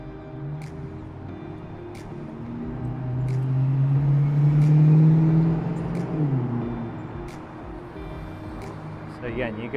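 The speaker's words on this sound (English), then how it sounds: "the traffic starting to pick up here" Downtown Miami street traffic near Flagler Street: a low vehicle engine swells to a peak midway and fades again, under a voice talking throughout.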